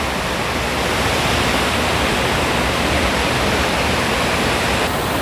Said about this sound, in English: Look at this gorgeous water.